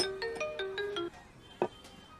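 A phone ringtone chimes in a melodic repeating pattern of tones, followed by a shorter single tone, fairly close and clear, with no talk.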